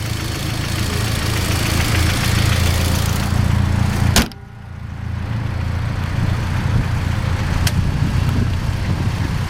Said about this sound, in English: let's get a quick listen to that turbocharged inline 4 and see what kind of noise it produces